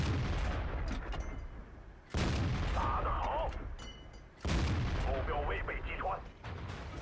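Tank cannon shots in World of Tanks, a WZ-132 light tank firing on an IS-3 at range on Steppes, heard as two heavy booming blasts with long rumbling tails under ongoing commentary.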